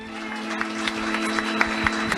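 Applause from a live theater audience at a New York City comedy show, dense broadband clapping with sharper individual claps popping through, steady and fairly loud across the short burst.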